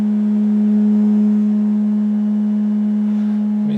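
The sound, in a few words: sine wave test tone from vintage stereo's left channel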